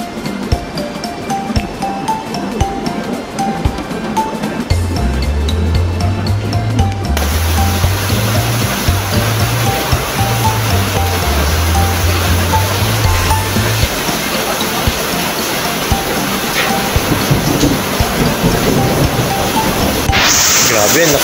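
Heavy rain pours in a steady, loud broadband wash that fills the whole stretch, with a low humming tone running under it for several seconds midway.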